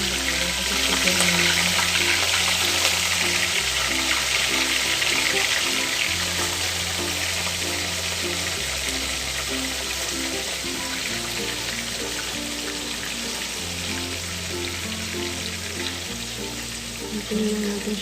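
Homemade chicken tocino, still partly frozen, frying in a hot pan gives a loud, continuous close sizzle with steady crackling throughout, while a low repeating musical backing plays underneath.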